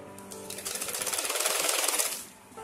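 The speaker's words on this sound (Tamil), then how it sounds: "இப்போ 4-5 தையல் நிறைய ஸ்ட்ராங்கா போட்டுடணும்." A sewing machine stitches a bed cover joint in a steady rapid mechanical run. The stitching speeds up to a fast chatter, holds, then slows and stops near the end, close and clear with no talk.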